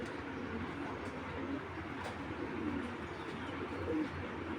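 Soft cooing murmurs of Pakistani Giribaz high-flying pigeons under a steady hum of background noise, with a few faint chirps scattered throughout.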